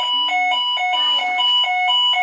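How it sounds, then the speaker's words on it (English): A fire alarm going off indoors, bright electronic tones pulsing in a quick repeating pattern, loud and close with no talk over it. "Well, I presume that's a fire alarm."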